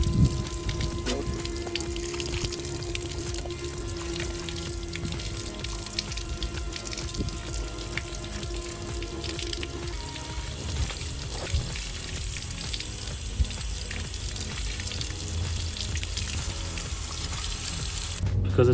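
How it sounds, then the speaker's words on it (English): A steady stream of low-pressure water rinses a dirty K&N sport air filter. The continuous, even splashing runs loud and close throughout with no talking. "Let's rinse. No pressure water."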